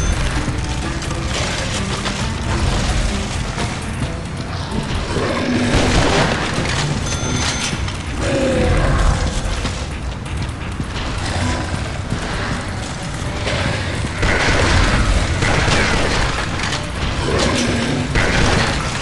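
Loud, continuous gunfire and booming impacts as zombies are fought in Dead Trigger 2, a dense, harsh barrage with no breaks that swells slightly louder toward the end.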